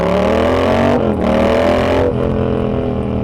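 Yamaha XSR700 motorcycle engine running close by at a steady, loud drone, its pitch dipping briefly twice as the rider shifts or eases off, with no talking.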